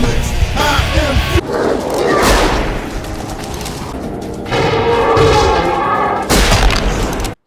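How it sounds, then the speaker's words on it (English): Gunfire in zombie-shooting scenes from the House of the Dead horror film: loud, dense volleys of shots and booms that run in long bursts, separated by abrupt cuts, ending sharply. "I'm talking just shooting zombies for over 7 minutes."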